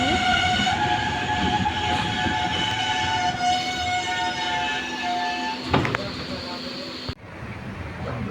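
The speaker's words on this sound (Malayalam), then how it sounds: "ഇപ്പോൾ നമ്മുടെ ട്രെയിൻ ഇപ്പോൾ ചോര റെയിൽവേ സ്റ്റേഷനിൽ അറൈവ് ചെയ്യുന്നു" The Ernakulam–Guruvayur Express passenger train rumbles and squeals as it slows arriving at Chowara railway station in India, a long steady hum running throughout, with a clunk and thump near the end; voices murmur underneath.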